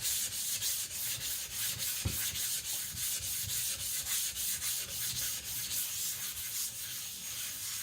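An IKEA Chinese cleaver is sharpened on a whetstone, the blade scraping in a steady, continuous rhythm of repeated strokes up close, with no voices present.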